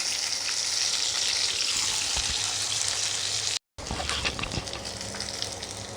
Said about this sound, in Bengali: আমি মাছগুলোকে একটু লাল লাল করে ভেজে নিয়েছি উল্টে পাল্টে